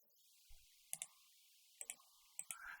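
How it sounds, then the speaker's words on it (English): Keyboard typing, quiet and close: a few isolated key clicks followed by short pairs and bursts of taps separated by pauses. "I'm just typing this"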